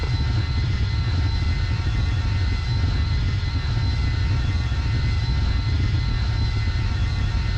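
Airplane engine in a flight video game during a rough takeoff, a loud, steady droning roar that holds unchanged throughout with no speech over it.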